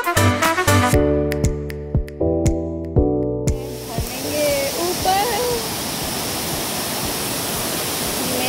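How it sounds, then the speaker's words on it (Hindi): A hidden waterfall at Bada Mangwa in Darjeeling. A loud, steady roar of falling water fills the second half, after a few seconds of music with hard rhythmic beats at the start. "झरना right behind me and right in front of me."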